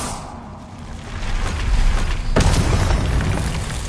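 A Confringo explosion spell in Hogwarts Legacy bursts with a loud boom partway through, followed by a sustained rumbling blast with no talk.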